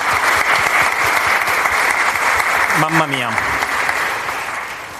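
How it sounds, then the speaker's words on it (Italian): An audience at an Italian panel discussion on globalization claps in sustained, dense applause throughout, while a voice briefly speaks over it near the middle. "Un applauso"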